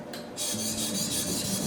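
A deba kitchen knife blade scrapes steadily across a whetstone in continuous rasping strokes, close and clear, with no talking.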